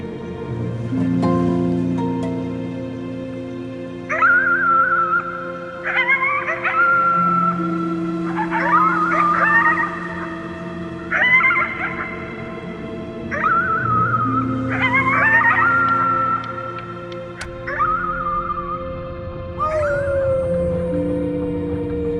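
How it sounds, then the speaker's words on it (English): Howling at the moon in the video game Before Your Eyes, a series of drawn-out, wavering howls at full strength over a low sustained musical backdrop, each howl rising and then trailing off. "You howled at the moon at the top of your lungs."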